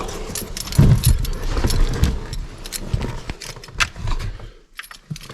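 Keys jangle and clink as someone picks out the right one before starting a first-generation Toyota Tacoma after a clutch safety switch repair; close metallic rattling continues throughout, loud at first and easing off toward the end.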